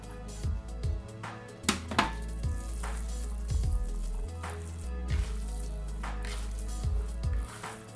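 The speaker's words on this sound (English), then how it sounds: "Give a stir, mix them properly." A homemade burger mixture with egg and breadcrumbs is stirred in a bowl, giving repeated short squelching strokes that are close and fairly loud over steady background music.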